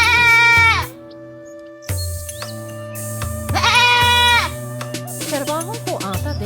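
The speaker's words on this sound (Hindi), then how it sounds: "अपनी आंखें बंद की और जोर जोर से मेमे की आवाज निकालनी शुरू कर दी" A cartoon goat in an animated Hindi moral story about a goat and a wolf bleats loudly in long, wavering cries, with quieter tonal background sound between the calls.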